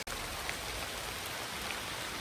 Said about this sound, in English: this rain is getting harder and coming down colder